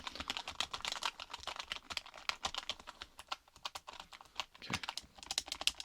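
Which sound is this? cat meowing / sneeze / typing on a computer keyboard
typing on a computer keyboard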